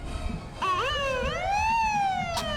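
A fire truck siren winds up and rises in pitch at a Veterans Day parade in Virginia Beach, wailing loudly and close by over a background of crowd noise.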